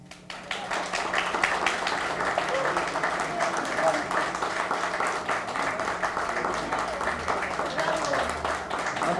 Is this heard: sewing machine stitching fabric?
no